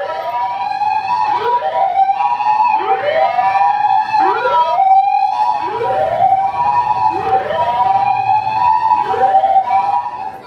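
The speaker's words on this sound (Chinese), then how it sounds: "还有幸目睹了一场心斋桥经消防车通行" A fire engine siren wails in repeated rising-and-falling sweeps as the truck passes along Shinsaibashi shopping street in Osaka, loud and continuous over a faint crowd murmur.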